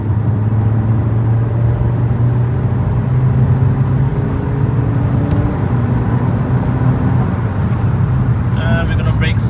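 An Audi RS3 cruising at roughly 90 mph gives a steady, loud interior drone of engine and road noise with a constant low hum, holding level throughout with no speech.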